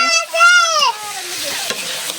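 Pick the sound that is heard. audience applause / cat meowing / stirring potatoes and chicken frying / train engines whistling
stirring potatoes and chicken frying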